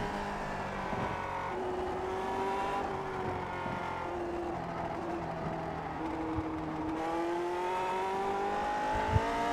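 A race car engine at full throttle in a racing video game at Suzuka, rising and falling through gear changes with steady loud harmonic whine, continuous throughout with no talk.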